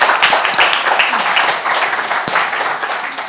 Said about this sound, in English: just big round of applause